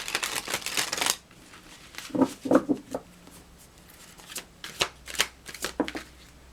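Tarot cards are shuffled in quick papery riffles and slides, close and clear, in two bursts separated by a quieter pause with soft handling sounds.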